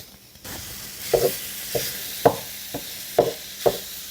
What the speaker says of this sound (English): So I'm going to fry it in my large hex-clad frying pan.